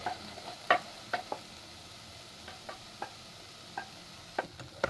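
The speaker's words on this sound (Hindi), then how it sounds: "अब सब्जियां हमारी सोते हो गई हैं, इसमें हम अंडा ऐड कर देंगे।" Eggs added to sautéed vegetables sizzle in a frying pan with a soft, continuous hiss, broken by scattered clicks and scraping taps from stirring, fairly quiet and close, with no voices.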